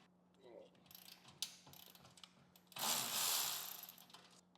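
A wrench works loose the 15mm bolt on a muffler clamp of a 2023 Harley-Davidson Road Glide exhaust, with faint scattered clicks and taps, then a louder sustained ratcheting burst near the end, close and without talk.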